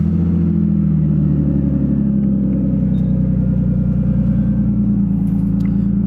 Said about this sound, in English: see what the car sounds like